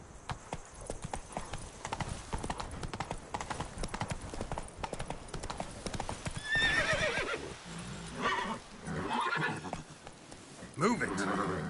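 Galloping hoofbeats of a horse in The Witcher 3: Blood and Wine drive a fast steady clip-clop, followed by loud neighing and snorting in the second half.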